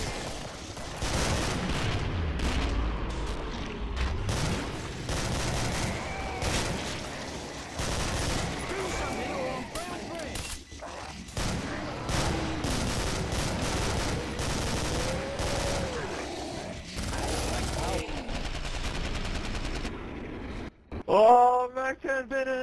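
Rapid, sustained automatic fire from a Mac10 submachine gun during a boss fight against the Patriarch in Killing Floor, bursts crackling nearly nonstop with game effects layered in, ending with a brief pause and a final sharp burst.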